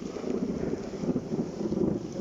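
Heavy rain and gusting wind buffet the microphone during a day hike on Mount Tagapo, Talim Island, Binangonan, Rizal, Philippines, a steady broadband roar that swells and dips throughout, with no voices.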